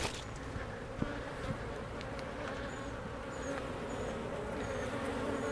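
A dense, continuous buzzing of many honeybees from a queenless hive swarming close by, steady and droning throughout.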